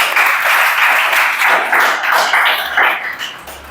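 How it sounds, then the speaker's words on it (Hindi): Students clapping together in a classroom, a steady burst of applause that rolls for a few seconds and thins out toward the end. "ताली बजाओ।"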